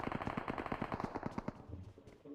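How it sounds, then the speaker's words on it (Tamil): Rapid machine gun bursts in the video game BGMI, a fast rattling string of shots for about a second and a half before trailing off into quieter game sounds. "எவ்வளவு புல்லட் இருக்கு போடுறாங்க"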